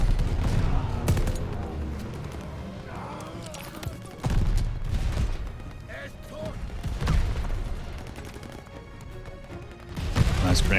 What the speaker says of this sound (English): Nice grenade right on top of me.